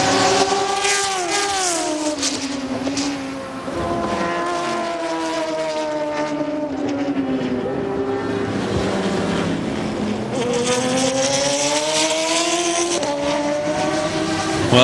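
Porsche Spyder prototype race cars at a 2006 American Le Mans Series race, engines howling loudly and continuously as they rise and fall through gear changes, several cars passing close by with sweeping pitch shifts.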